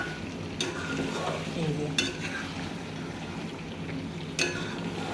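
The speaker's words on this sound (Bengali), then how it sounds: "চিকেনটা খুব ভালো করে নাড়াচাড়া করে এপার ওপার মশলাগুলো ভালো করে করে এভাবে" Chicken fried with spices in a pan, stirred steadily over a continuous close sizzle, with a few sharp scrapes of the utensil against the pan.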